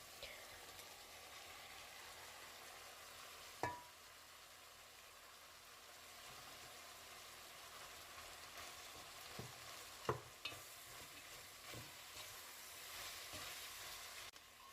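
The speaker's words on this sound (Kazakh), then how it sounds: "Және де үстіне сәбіз, редкамызды салып, жақсылап қуырып аламыз." Carrot and radish frying in hot oil for homemade lagman, a quiet continuous sizzle with occasional stirring clanks and scrapes, no voices.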